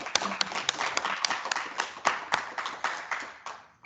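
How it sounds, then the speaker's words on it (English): A small group claps after a garden presentation, with sharp, uneven hand claps rising near and loud at first, then thinning out and fading toward the end. "we'll give you a round of applause"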